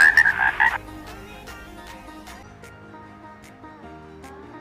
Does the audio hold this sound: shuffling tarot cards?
no